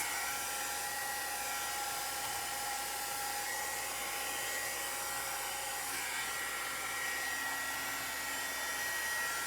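A hair dryer blows steadily on fresh paint on an old tray, a constant close whirring roar with no pauses.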